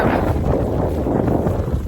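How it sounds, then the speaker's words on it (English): Heavy wind buffets the microphone in a loud, low, blustery rumble that fills the short clip without letup. "it's really windy"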